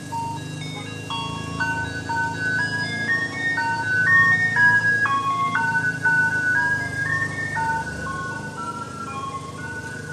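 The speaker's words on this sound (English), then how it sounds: "Oh, the ice cream truck." An ice cream truck plays its chiming melody as it passes nearby, the tune steady and fairly loud throughout over a low road rumble.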